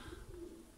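A pigeon of the pied-headed color variety gives a soft low coo, brief and faint, with faint background noise and no talking.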